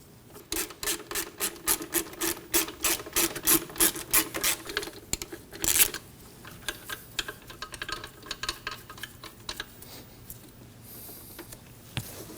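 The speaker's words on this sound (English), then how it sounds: "you can go ahead and loosen the belt tensioner" Loosening the belt tensioner on a Subaru Baja with a 12mm wrench: rapid repeated ratcheting clicks in quick bursts, close and fairly quiet, with no talk.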